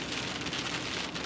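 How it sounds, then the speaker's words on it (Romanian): Steady rain falling outdoors under partly sunny skies, a soft continuous hiss of drops without pauses or voices. "Dacă aici mai este un pic de soare și plouă, să zic că acceptabil, normal."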